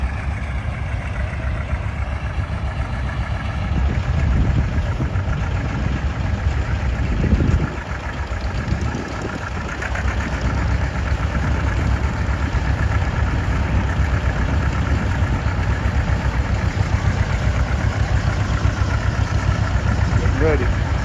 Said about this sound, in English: Here comes a big 20 bottom plow, pulled by a home-built John Deere.